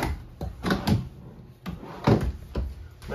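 Drawer in the kitchen of a 2023 Forest River Avenger 28QBSLE travel trailer, sliding open and shut several times with soft thumps and rolling rattles, close by and moderately loud, no talking.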